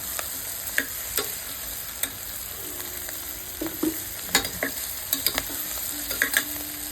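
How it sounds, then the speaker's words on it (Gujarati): Onions fry in a pan with spices for a potato curry, and a steady low sizzle runs beneath irregular scraping stirs and taps of a spoon, close up with no one speaking. "થોડો કાંદો મુલાયમ થઈ જશે એટલે બરાબર ચાલી દઈશું જેથી મસાલા અંદર સરસ રીતે પચી જાય"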